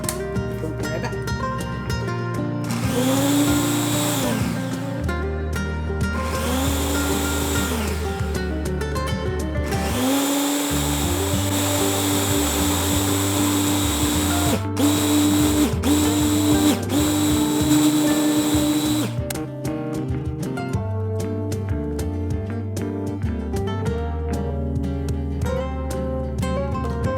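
A kitchen blender purees sofrito ingredients until smooth with a loud, sustained motor whir. The pitch shifts in stages as the speed changes, and then the motor drops to a lower hum near the end.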